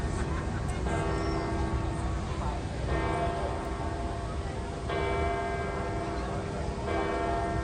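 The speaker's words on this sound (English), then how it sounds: "I listen to the bells." Church bells of St. Peter's ring in a steady sequence of overlapping tones, moderately distant, over a constant background hum.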